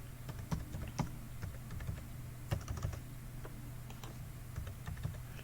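Steady typing on a computer keyboard, a fast run of close, crisp key clicks with a few louder strokes, over a low constant hum and no talking.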